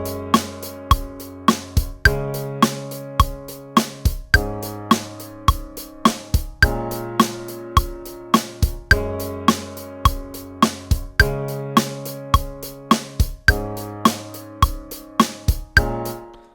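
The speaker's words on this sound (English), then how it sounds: "I've built a very simple and predictable drum beat and a chord progression on a piano" A simple, steady programmed drum beat with regular kick and snare hits loops alongside sustained piano chords changing every couple of bars, built in Ableton; clear and upfront with no voices.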